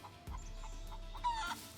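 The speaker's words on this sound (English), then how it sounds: "Is that a chicken? Oh, there's a chicken right there." Chicken clucking in the survival video game SCUM, a few short soft clucks at moderate distance over a low ambient rumble, with a brighter squawk near the end.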